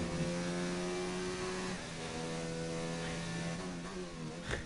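McLaren Formula cars heading out onto the track in a racing video game: a steady, buzzing engine tone with layered harmonics that holds pitch, then wavers and climbs slightly, fairly close with no talk.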